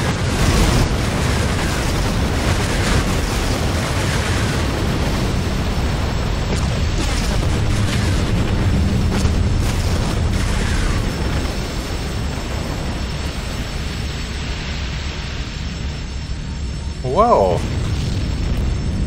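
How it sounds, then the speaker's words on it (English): A ship torn apart by a boiler explosion and chain reaction in Silent Hunter 3 rumbles as a heavy, sustained roar with rolling booms, fading slightly later, with a brief exclaiming voice near the end. "From a boiler explosion to a chain reaction throughout the whole ship."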